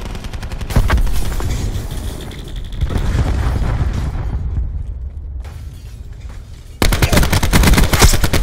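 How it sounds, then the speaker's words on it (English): In Call of Duty: Black Ops 4, a cluster grenade detonates in loud, close bursts amid rattling gunfire, with dense booming blasts that ease off and then surge again near the end. "Throwing cluster grenade."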